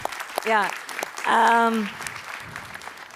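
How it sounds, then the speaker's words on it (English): An audience at a data and technology summit applauds a returning speaker during the closing remarks. The clapping is clear, and a voice talks loudly over it in short bursts as the applause carries on. "big applause"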